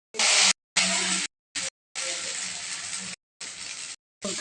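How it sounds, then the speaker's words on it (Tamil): Appam batter hits a hot appam pan in several loud bursts of gushing, hissing sizzle separated by abrupt silent gaps. "ஆப்பம் மாவு ஊற்றிக்கலாம்"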